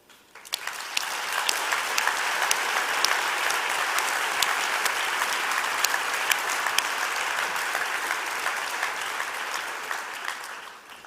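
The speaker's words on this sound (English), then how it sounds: "offer a round of applause to so many global health partners and friends" An audience gives loud, sustained applause at the opening ceremony of the World Health Summit 2022: dense clapping rises quickly, holds evenly for about ten seconds, then fades away.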